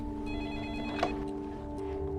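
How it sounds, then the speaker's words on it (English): A telephone rings in the middle of the night, a faint electronic warble with a brief sharper burst, set against a steady low background drone. "in London, Admiral Smith is woken up by a phone call"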